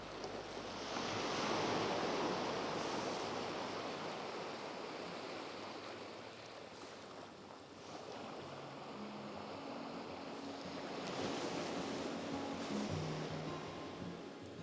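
Ocean surf washing ashore on an outgoing tide, a steady broad roar with swells rising and falling, mixed with wind buffeting the microphone and a faint low engine hum in the middle.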